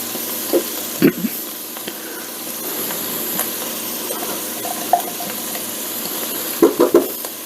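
Garlic frying with onions and ground beef in a pan for Cantonese beef and rice, a soft continuous sizzle with occasional clinks and spoon knocks against the pan.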